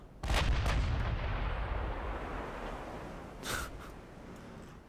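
Twin 16-inch battleship guns firing in the naval video game Ultimate Admiral: Dreadnoughts, two deep booming salvos a few seconds apart, the first loud and rolling and the second fainter, with no voices.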